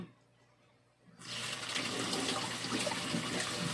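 Water rushes out steadily as anchovies are drained, starting abruptly after a second of near silence and continuing loud and even to the end.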